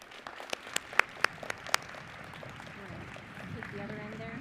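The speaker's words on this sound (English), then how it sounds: "Could everyone please recognize President McRobbie with a round of applause." A university commencement audience applauds, building from scattered sharp claps into a broader wash of clapping, moderately loud, with a voice speaking over it.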